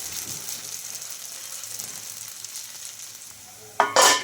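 Rice flour batter hits a hot ghee-greased pan near the end, a sudden loud burst of sizzling after a stretch of low, faint background hiss.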